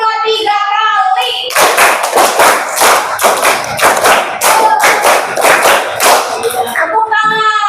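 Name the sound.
children clapping hands in a rhythm game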